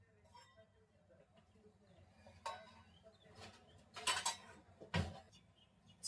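Dishes and utensils clink and clatter in a home kitchen during cleanup, quiet shuffling broken by three brief, sharper bursts of clanking crockery near the middle and end.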